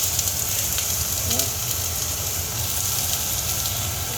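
Onions simmering in a pan, a steady soft sizzle and crackle that holds evenly throughout, with a brief faint tonal clink partway through.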